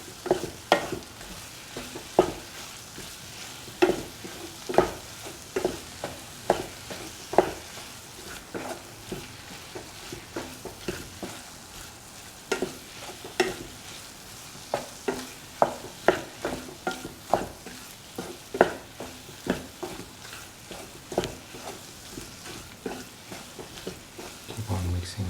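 A spatula stirring a soya chunk and egg stir fry in a pan, repeated sharp scrapes and taps in an irregular rhythm over a soft sizzle, close and clear for about twenty-five seconds.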